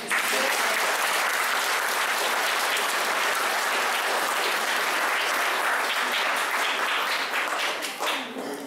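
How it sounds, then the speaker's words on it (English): A large audience claps at a school award ceremony, dense sustained applause that fills the room at full volume for about eight seconds before tapering off at the end. "So a round of applause"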